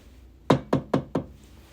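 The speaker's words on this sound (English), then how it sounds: "A knock on the door pulled him from his diligent studies." Four evenly spaced knocks on a door, sharp and fairly close, ring out one after another over a quiet background.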